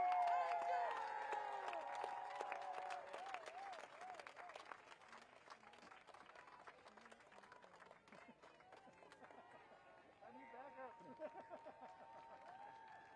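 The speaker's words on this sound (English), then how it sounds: "Keep that applause going." A crowd at a Native American environmental march in Washington, D.C. claps and cheers outdoors. The sound is faint and somewhat distant, with whoops and voices mixed in, and it fades gradually toward the end.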